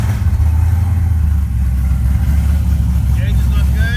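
A car engine, started with a keyless remote fob, hums at a steady idle. It is loud and close, with voices talking over it.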